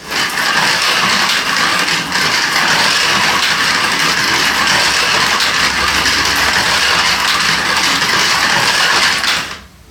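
Tiny motors of 1/43 scale slot cars whine steadily as the cars race around a budget plastic track, a loud, continuous buzzing hum that holds for the whole stretch and cuts off at the end.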